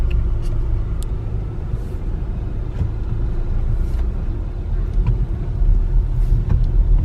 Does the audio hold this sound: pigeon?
no